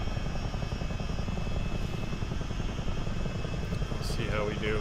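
Steady, loud rotor and turbine drone of a CH-47D Chinook helicopter in a multiplayer flight simulator game, continuous throughout, with someone briefly talking over it near the end.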